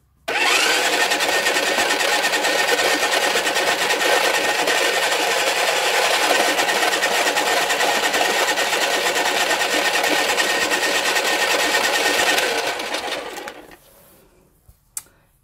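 A paint-pour spinner whirs steadily as it spins a poured canvas, a loud continuous motor drone that holds for about twelve seconds before winding down and stopping.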